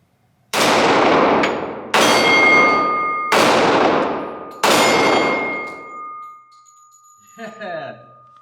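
A Glock 41 Gen 4 pistol fires four loud .45 ACP shots at an outdoor range, about one and a half seconds apart, each with a ringing metallic tail before a quiet end.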